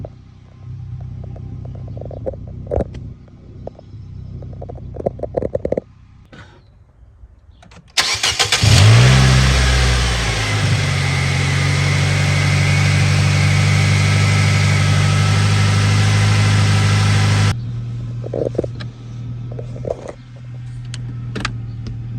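A Nissan Sentra with a CVT transmission fault idles steadily, then a loud broadband whine and drone rises as the transmission strains to engage reverse, holding for about ten seconds before settling back to idle.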